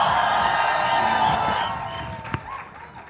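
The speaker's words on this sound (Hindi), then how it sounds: "रणबीर बैठा है, इसके लिए ताली बजा दो एक बार यार।" Audience at a Bollywood film launch event claps and cheers for Ranbir in a dense, steady crowd roar that gradually fades toward the end.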